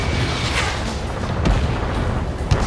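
Heavy rumbling explosions from the Ace Combat 7 air combat game roll through a continuous loud roar of jet noise, with a few deeper booms and a sharp pop near the end.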